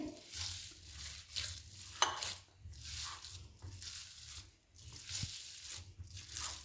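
Chapli kebab mince mixed with egg is kneaded and squeezed hard by hand, making soft wet squelching and tearing sounds in a steady repeating rhythm, close and fairly quiet, with no voices.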